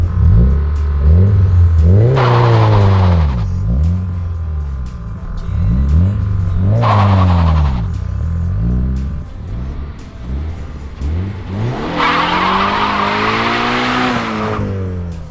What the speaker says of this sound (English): Let's do a burnout too.